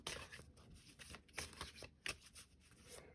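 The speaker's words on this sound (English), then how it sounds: "I always have such a hard time shuffling on camera because it's just a weird angle" A deck of tarot or oracle cards is shuffled by hand for a pick-a-card reading, producing quiet, close riffling bursts and soft flicks in an irregular rhythm with no talking.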